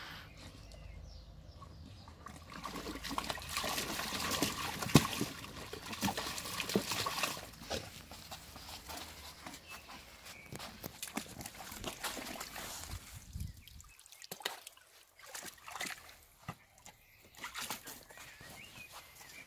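A German Shepherd splashes and paddles in a lake, chasing the water, with irregular sloshing and trickling close by, heavier at first and then lighter with scattered drips.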